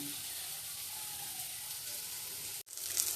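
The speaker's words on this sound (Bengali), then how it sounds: "বেগুন ভাজা হয়ে গেছে, তুলে নেব।" Brinjal slices fry in oil in a pan with a steady close sizzle and hiss that runs unbroken for most of the clip, then cuts out briefly and resumes.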